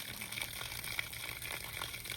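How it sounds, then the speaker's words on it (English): Water pours steadily onto a smoldering brush pile of burning branches, a continuous low hiss and gush with faint sizzling, moderately quiet and unbroken throughout. "There goes the water."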